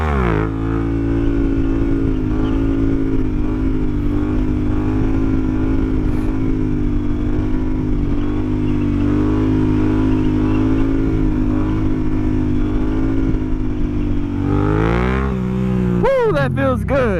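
Yamaha FZ motorcycle doing a double back peg handbrake stunt, its engine droning loud and steady close by, then revving up sharply near the end.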